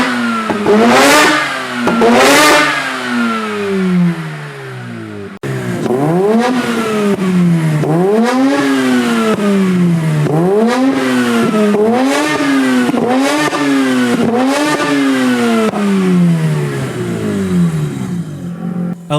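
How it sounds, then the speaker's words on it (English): Mazda RX-8 rotary engine revved before and after installing headers: two sharp blips, then a quick series of about seven rising and falling revs, loud and close with no talking. "let's have a listen to the before and after"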